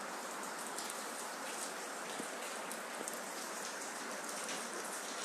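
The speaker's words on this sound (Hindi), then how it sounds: "मित्रों, बारिश हो रही है और जहाँ मैंने अपना मोबाइल लाइव के लिए सेट किया था वहाँ पानी आ रहा है।" Steady rain falls outdoors at an open-air live poetry reading, a dense even hiss of drops on surfaces lasting throughout with no voices.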